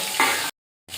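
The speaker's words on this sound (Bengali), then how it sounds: "গ্যাসের ফ্লেমটা মিডিয়ামে রেখে হালকা করে ভেজে নিতে হবে নুন দিয়ে মেখে রাখা ভেটকি মাছ দুটোকে দিয়ে দেবো" Salted bhetki (barramundi) fish fry in hot oil over a medium gas flame, giving a close, steady crackling sizzle that cuts out abruptly for a moment before resuming.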